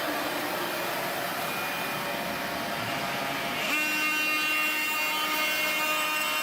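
An oscillating multi-tool cuts through an old plaster and lath bathroom wall, giving a steady, close, buzzing saw drone that shifts to a higher, harder whine partway through, with no talk.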